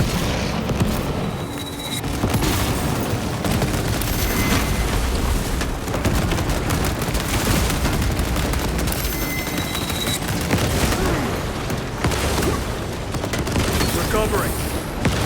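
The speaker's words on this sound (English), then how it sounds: "Throwing frag grenade!" A frag grenade explosion and dense gunfire in Warhammer 40K: Space Marine 2, a continuous loud barrage of rapid shots and booming impacts, close and sustained.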